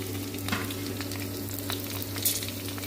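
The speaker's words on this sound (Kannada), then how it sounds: "ಇಷ್ಟನ್ನು ಫ್ರೈ ಮಾಡ್ಕೋಬೇಕು." Green chilies, garlic, onion and tomato frying in oil for Karnataka village-style bassaru and palya, a constant soft sizzle with a low hum beneath and a few light scrapes and clinks.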